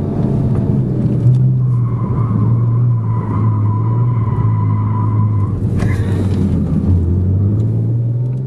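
A turbocharged car, compared against a Porsche 911 Turbo and a Mercedes S550, accelerates hard around a tight course, its engine droning loud and steady with a pitch that shifts up and down, tyres scrubbing briefly near the end.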